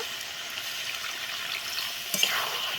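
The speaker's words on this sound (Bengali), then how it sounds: "এরপরে একটু পরিমাণ মতো জল দেবো।" Small splash of water poured into a pan of taro stolons cooking in spiced gravy, a steady soft hiss and trickle throughout with a brief louder splash near the end.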